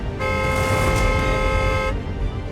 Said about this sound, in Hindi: हॉर्न बजाइए ना, शायद उनका ध्यान हमारी तरफ आ जाए।